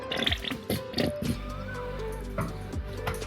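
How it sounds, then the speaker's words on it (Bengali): Mustard oil is poured into a pan over salt and whisked sour yogurt for Bengali chicken kosha, a soft, quiet liquid trickle with a few faint drips and clinks. "সরষের তেলটা এখানে দিয়ে দিলাম।"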